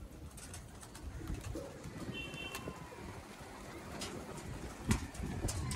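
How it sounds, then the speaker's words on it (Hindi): Pigeons coo faintly outdoors against wind and broad background noise, with a few soft calls and no talking. "भाई कबूतर लग गया आसमान में,"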